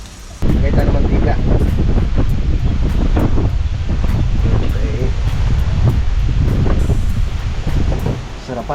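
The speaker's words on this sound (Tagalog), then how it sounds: "Ang lakas ng ihip ng hangin." Strong wind blows outdoors while chicken adobo with taro is cooked in the open air, a loud, steady roar with gusty buffeting against the microphone and a brief spoken word.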